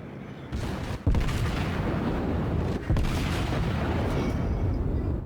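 Heavy battleship main-gun salvos from the New York, a tier 5 battleship in World of Warships: two loud booming blasts around one and three seconds in, over a continuous rumbling battle background with no talking.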